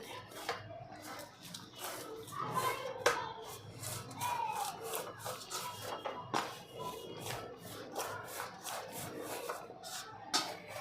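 Soft, loose puran poli dough being kneaded by hand, with repeated wet squishing, slapping and rubbing strokes in an uneven rhythm, close up and fairly quiet.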